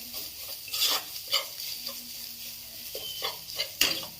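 Potatoes sizzle gently in a pan for a few seconds, broken by several sharp metallic scrapes and clinks as they are stirred, with no voice heard.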